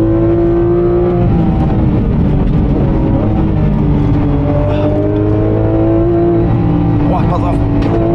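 Cars racing around the Nürburgring circuit, heard from inside a Porsche GT3 RS: a steady, loud engine drone with shifting pitch as revs climb and fall, and other cars passing nearby, with voices talking over it.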